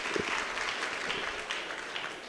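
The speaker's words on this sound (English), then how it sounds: "Please give a round of applause." An audience at a community interfaith forum applauds in a round, fairly faint and distant, with a steady wash of claps lasting a couple of seconds and no voices on top.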